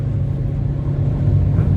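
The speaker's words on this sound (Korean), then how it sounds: "엔진 소리는 많이 나요." Engine of a Citroën C4 Picasso with a 1600cc engine while driving, a steady low rumbling drone heard from inside the cabin, continuous and fairly loud, with no talking.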